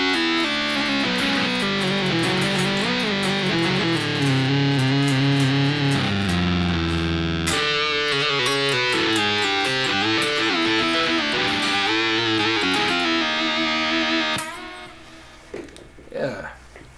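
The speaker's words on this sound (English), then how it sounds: "I'm running two of them at a time. The one's a saw wave and the other one's a sine wave." A buzzy, distorted guitar synth tone from a Boss GP-10 with GK-3 pickup, layering saw and sine waves pitch-shifted down five semitones, sustains loudly, shifting pitch in chunks, then cuts off abruptly into a few faint sounds.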